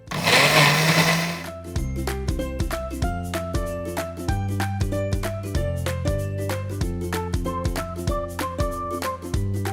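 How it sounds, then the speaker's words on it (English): A regular household blender whizzing a banana and peanut butter smoothie: a brief loud burst of noise, then a steady high motor whine with a repeating pulsing rhythm, close and loud. "So I have got a regular blender here because in most homes we have regular blenders."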